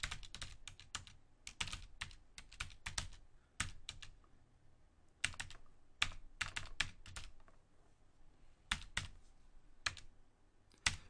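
Quick, uneven bursts of keystrokes clatter on a computer keyboard, clicks bunched in short runs with brief pauses between them, close and fairly quiet, with no voices.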